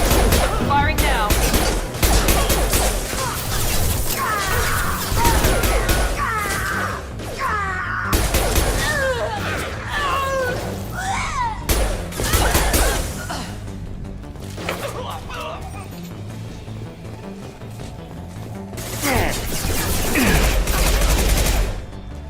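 Weapons fire from a Mass Effect 2 battle keeps up steadily, loud bursts and heavy shots packed under excited voices, growing dense again near the end.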